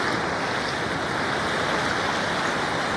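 Water of the Shetrunji river rushes under a bridge in a loud, continuous, even roar of flowing water, heard close up for three seconds with no voices.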